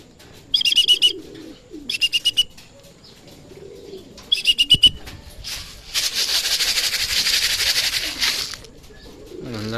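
Racing pigeons being readied for a derby coo and chirp in short repeated bursts, followed by a longer rush of wing flapping, close by and with no talk.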